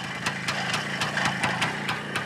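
A freshly rebuilt SHL M11W motorcycle with a Wiatr engine, still being run in, idles with a steady rumble marked by regular sharp firing pulses at an even rhythm, loud and close with no voices.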